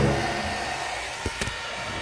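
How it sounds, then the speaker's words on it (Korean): Hair dryer blowing steadily on thick, unset glass deco stickers, a close continuous airy roar with a couple of brief knocks near the end. "이거를 드라이기로 한번 해봐야겠어."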